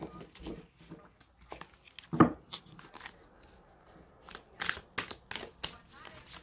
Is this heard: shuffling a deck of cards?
yes